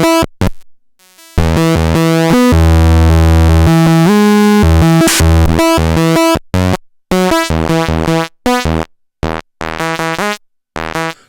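An Animal Factory Baron Samedi distortion pedal on a modular synth produces harsh, clipped tones with intense pulse-width-like buzz. Sustained chords give way to choppy stuttering bursts separated by abrupt silences.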